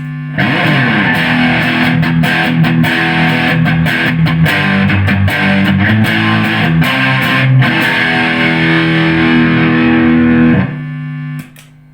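Electric guitar run through a distortion effect pedal on a Joyo Tone Chain pedalboard, loud saturated chords and riffs sustained for around ten seconds before cutting off into a brief fading tail.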